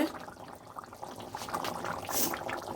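A pot of fish curry gravy with potatoes bubbles at a steady boil, a continuous close, moderately loud liquid churning with soft pops.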